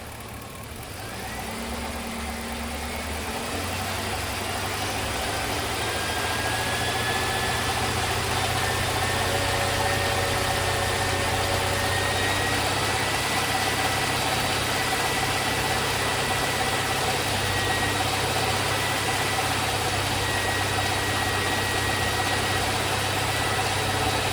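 A salvage-yard car engine, revived after sitting seven years, runs loudly and steadily nearby, a sustained mid-low rumble that swells at the start and holds a constant drone throughout.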